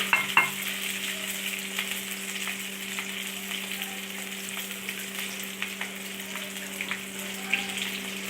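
Ginger, garlic and green chilies frying in a pan for a Kerala-style fish curry, a steady close sizzle with occasional stirring scrapes and a faint constant hum beneath.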